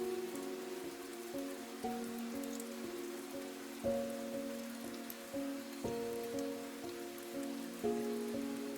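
Steady rain falls as a soft, even hiss, while gentle tonal music rises and falls above it for the whole stretch.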